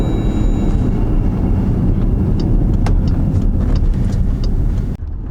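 A Jeep Grand Cherokee with a cleared DPF problem accelerates on the road, a steady, loud rumble of engine and road noise heard from inside the cabin, cutting off abruptly near the end.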